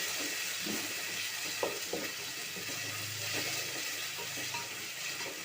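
Vegetables with tomato frying in oil in a pan make a continuous soft sizzle with occasional light taps of stirring, steady and fairly faint throughout.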